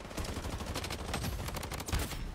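AUG rifle fired in the shooter game Blood Strike, a loud, dense automatic spray of rapid shots in one sustained burst with no pause, no talking.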